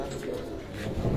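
Pigeons on a rooftop coo softly and continuously over a low murmur of background noise, with no clear speech.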